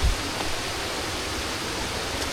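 A village water stream rushing during heavy monsoon rain, a dense, even roar of flowing water that holds steady and close for the whole stretch.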